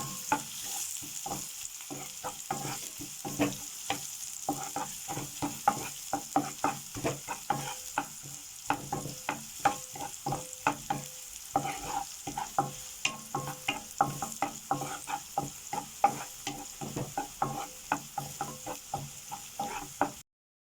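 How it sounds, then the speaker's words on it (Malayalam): Chopped capsicum being stirred through a sizzling mixture in a frying pan for a Kerala snack, with a steady run of close spoon scrapes and knocks over a constant hiss of frying. "ഒന്ന് നല്ലവണ്ണം മിക്സാക്കി കൊടുത്തിട്ട് ഒന്ന് ഇളക്കി കൊടുക്കാം"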